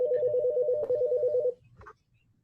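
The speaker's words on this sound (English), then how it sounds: "Someone's phone is ringing." A phone rings during an online video call, a steady electronic warbling ring tone lasting about a second and a half before stopping, faint and slightly distant.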